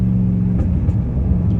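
Dodge Challenger Hellcat Redeye with catless straight-piped exhaust, a loud, deep, steady idle rumble close by with slight pulsing throughout.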